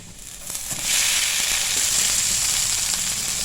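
Grated potatoes dropped into a hot frying pan with onion and garlic, a sudden rising burst of hissing sizzle that settles into a steady loud crackle.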